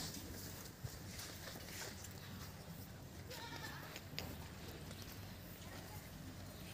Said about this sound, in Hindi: जैसा कि बकरियाँ देख सकते हो फुल हाइट लेंथ वाली बकरियाँ हैं अभी